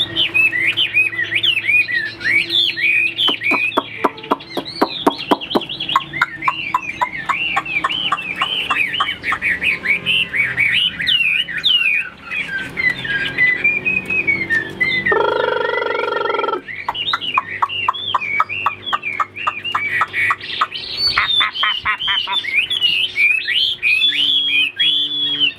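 A caged songbird sings loud, close and almost without pause, trilling and warbling in rapid bright phrases through the whole stretch, with a brief buzzy rattle midway.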